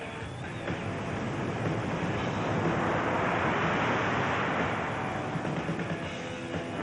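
Strong wind of about 30 to 35 mph roars steadily at a 1985 windsurfing event, swelling in the middle and easing slightly, a broad rushing noise with no voices.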